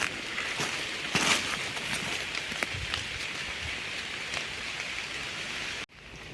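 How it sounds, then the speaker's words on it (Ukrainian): Light rain patters steadily on leaves in an autumn forest while out mushroom hunting, a soft, even hiss with a few nearer drops and a short dropout near the end. "Такий дощик невеличкий почався."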